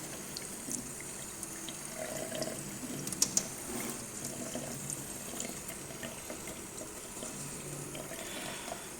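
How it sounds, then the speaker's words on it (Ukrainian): Water running steadily over a soot-clogged diesel particulate filter from a Skoda Octavia A7 2.0 TDI, a continuous hiss and splash with a couple of brief knocks, close by and without speech. "Тоді промиваю цей фільтр і чищу від крупної зали і сажомасляні відкладення."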